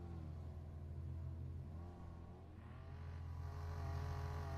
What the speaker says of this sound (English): Yoshi doing burnouts in the pit lane.